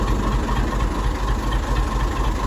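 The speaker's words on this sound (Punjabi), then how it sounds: "ਲੋ ਜੀ ਲੱਗ ਗਿਆ ਟਰੈਕਟਰ" A tractor engine idles after starting, a steady low rumble with a dense, even mechanical drone that holds constant throughout, close by and with no talking.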